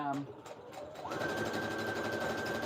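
A sewing machine stitches across tattered quilt fabric in a steady, close, continuous whir, with a short voice at the very start before the motor settles into a constant hum.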